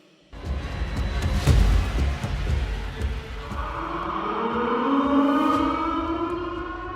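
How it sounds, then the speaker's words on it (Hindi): A siren wails and rises over a loud rumbling background, its long sliding tones building in the second half amid echoing noise. "सायरन बजा"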